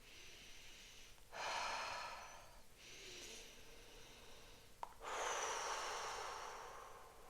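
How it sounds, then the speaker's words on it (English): Deep breaths taken during a grounding meditation: three distinct, close breaths, each a long airy rush, separated by quiet pauses, with a small click before the last. "Take a few deep breaths right now."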